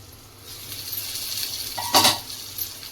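Vegetables for noodles, carrots, beans, capsicum and peas, stirred in a hot pan, a steady soft sizzle with a sharper scrape of the utensil near the end, close and without speech.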